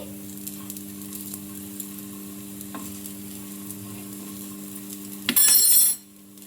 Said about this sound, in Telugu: ఇంకా మనం అటు ఇటు తిప్పుకుంటూ 2 వైపులా బాగా కాలే వరకు అయితే కాల్చుకోవాలి వీటిని